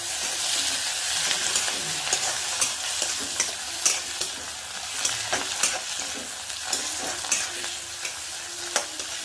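Browned onions sizzle steadily in a pan as tomatoes and cashews go in, with a continuous close frying hiss broken by regular stirring scrapes and soft clatters.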